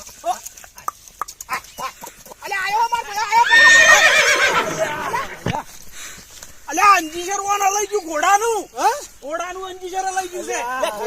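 A horse in a village whinnies in several drawn-out calls amid hoof clatter, loud and close, mixed with people shouting and talking around it.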